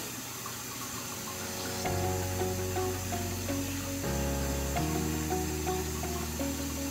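Running tap water rinsing Cetaphil Double Effect facial cleanser off the face, a steady close wash that swells louder partway through, with tonal background hum and no talking.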